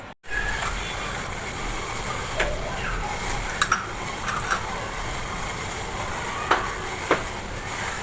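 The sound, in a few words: tea boiling on stove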